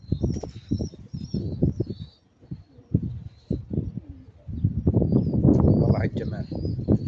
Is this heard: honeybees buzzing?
no